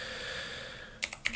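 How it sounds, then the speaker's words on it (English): A few quick computer keyboard keystrokes clatter near the end, close and fairly light, over a steady electronic hum. "Okay, so I'm going to type in the word."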